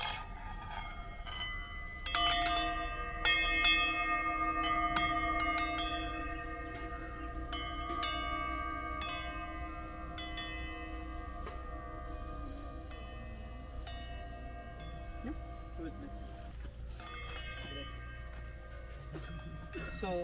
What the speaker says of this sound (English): So this is called hanging bowls, which is made out of aluminium. So this represents the temple bell sound.